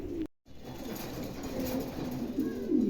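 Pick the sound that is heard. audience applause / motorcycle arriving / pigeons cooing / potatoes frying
pigeons cooing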